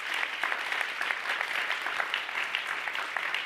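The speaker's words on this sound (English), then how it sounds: "So can we give her a round of applause for the 100th law passed?" Audience at a book talk applauding a speaker, steady dense clapping from a moderately sized crowd, heard at a slight distance and holding even throughout.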